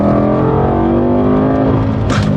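BMW M5 engine revving, a loud, close mechanical roar with rising and falling pitch over a couple of seconds, ending in a brief sharp burst.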